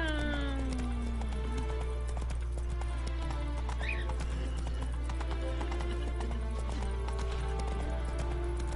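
Roach, Geralt's horse in the video game The Witcher 3, gallops in a steady, rhythmic clip-clop of hooves, close and continuous over a constant low background hum.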